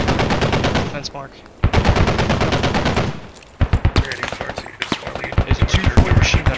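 Rapid machine gun bursts ring out in the video game Squad, loud and close, in repeated rattling strings separated by short pauses, with dense overlapping gunfire throughout.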